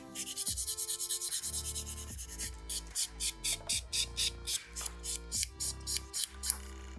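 Filing an acrylic nail edge with a 240 grit file, close rhythmic scratchy rasping in fast regular strokes, with steady background music underneath.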